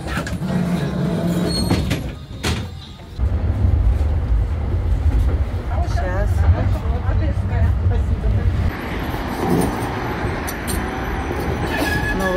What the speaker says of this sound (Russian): Трамвайчики в Краснодаре.